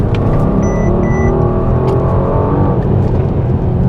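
A Mercedes-AMG GLC 63S's engine roars loudly and continuously under acceleration, a dense low rumble filling the cabin with no talking over it.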